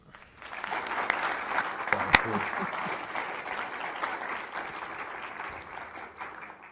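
An audience at a college convocation breaks into applause for a veteran news executive and a guest, a full, steady clapping that swells quickly and holds evenly for several seconds before easing off.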